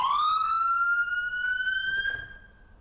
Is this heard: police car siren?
yes